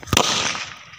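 A single firecracker bangs sharply in a village, a loud close crack followed by a quick fading echo, no voices.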